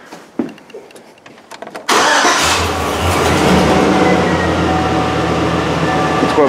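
A Chevy truck with a rich-running fault cranks briefly with faint clicks, then its engine catches and settles into a loud, steady idle rumble, close to the mic.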